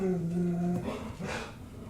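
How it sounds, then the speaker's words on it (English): A dog lets out a drawn-out, whining bark nearby, then trails off into softer rustling. "Sorry, my dogs are barking."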